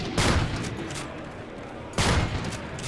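Gunfire in Call of Duty: Ghosts during an X Games Austin competitive match, with two loud, dense bursts of shots about two seconds apart over continuous game noise.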